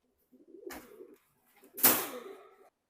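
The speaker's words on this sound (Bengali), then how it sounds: "গলালাল কবুতর অনেক সুন্দর ভালো মানের কবুতর" Two short, close pigeon coos come from Pakistani Teddy pigeons, the second louder and breathier, with quiet gaps in between.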